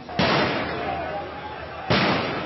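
Protesters set off fireworks in a French street, two loud explosive bangs a couple of seconds apart, each trailing off into a long echoing rumble through the street.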